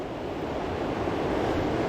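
River water flowing steadily below Dick's Creek Falls, a continuous broadband rush with no breaks and no voices.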